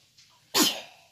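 A child's single sharp sneeze, preceded by a soft intake of breath and ending in a fading exhale, close and clear in an otherwise quiet room.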